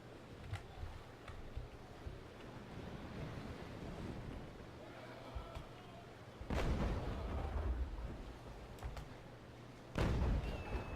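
Ship cannons fire in the naval combat game Naval Action, with two heavy booming volleys over a constant roar of wind and surf, plus a few fainter distant shots in between, no talking.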